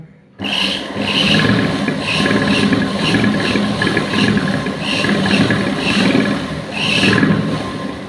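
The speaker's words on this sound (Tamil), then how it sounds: "இது கொஞ்சம் மிஷினு சவுண்டு வருது" Electric sewing machine stitching fabric in a tailoring class, a steady fast rattling drone with rhythmic mechanical clatter that runs close and unbroken after a brief start, with no talking.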